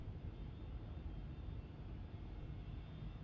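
Steady broadband roar of an airplane taking off at Zagreb airport in Microsoft Flight Simulator 2020, a continuous even engine rumble with a faint high whine throughout, no voices.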